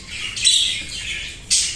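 Pet budgerigars give bursts of shrill, scratchy squawks and chatter at close range, with a louder squawk returning near the end and no talk.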